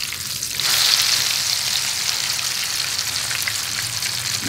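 Eggplant slices for a Filipino eggplant omelette frying in a shallow layer of pork fat or cooking oil, giving a steady close hiss and sizzle that swells at the start and then holds evenly, no voices.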